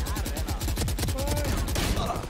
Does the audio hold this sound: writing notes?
no